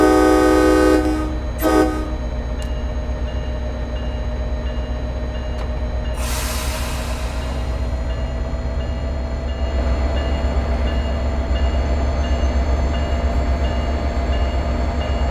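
MBTA F40PH-3C diesel locomotive with a CTC-3 cab car in Train Sim World 2, pulling away from a stop on the Boston Sprinter route: a steady low engine drone builds under brief horn-like tones, with a burst of hissing air partway through.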